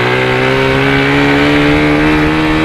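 Motorcycle engine revving hard through a modified Polimet exhaust, a loud, raspy, sustained roar close to the microphone that holds steady for the whole stretch.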